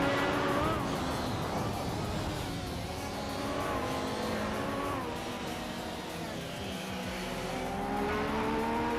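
Racing cars roar through a video game race, a BMW M3 GTR Evo among them, with engines droning and shifting pitch continuously for several seconds at steady loudness.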